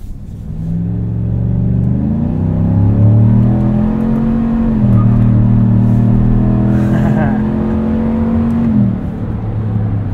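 A 2024 Chevrolet Silverado 1500 High Country with its 6.2-liter V8 pulls away on the road, the engine note climbing steadily through the gears. It is loud and continuous, with a brief dip in the middle as it shifts.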